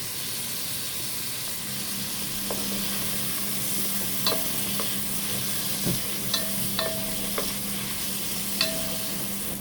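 Onion and ginger sizzle steadily in a hot pan, a constant close frying hiss broken by occasional light utensil taps and scrapes as the pieces are stirred, with no talking.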